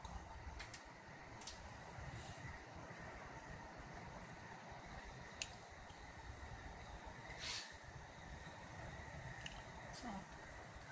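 A Sobu Line Rapid Service train runs underground, a low steady rumble of the moving carriage with occasional faint clicks and squeaks, heard from inside a green car.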